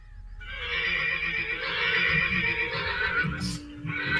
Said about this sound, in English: there was a zombie horse sound